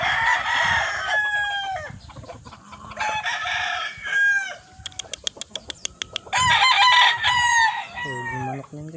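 Sweater white-leg rooster crowing and clucking repeatedly close by, with sharp rhythmic clucks in a quick burst midway and someone talking between calls.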